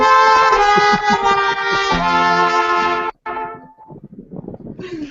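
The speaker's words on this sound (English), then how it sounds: "And give a sad horn to the loser, Freddy." A sad-trombone style horn sound effect played for a game-show loser, a loud descending run of sustained brassy tones that cuts off abruptly, followed by faint noise and a brief returning tone.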